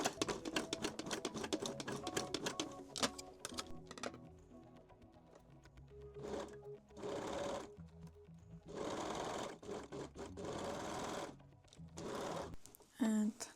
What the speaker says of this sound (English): I will use the serger.